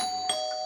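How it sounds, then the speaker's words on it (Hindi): An electronic doorbell chime rings at a house door, a steady tone with a brighter strike near the middle, heard alone and fairly close. "घंटी फिर एक बार बजी।"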